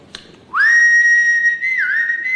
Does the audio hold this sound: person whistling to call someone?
yes